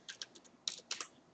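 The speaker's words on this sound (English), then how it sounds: "and I would type in Gigabyte." Typing on a computer keyboard while searching for Gigabyte, heard as a short run of about seven quick, close key clicks in two small clusters, quiet and with no talking.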